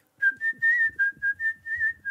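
A person whistles a lively tune alone, in short, clear, bouncy phrases of rising and falling pitch, close and fairly loud.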